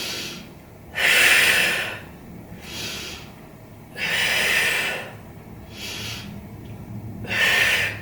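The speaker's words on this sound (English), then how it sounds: "And let's take 3 breaths." Three deep breaths during a Pilates back-strengthening exercise, each a loud, airy inhale or exhale lasting about a second, spaced evenly with quieter breathing in between and no talking.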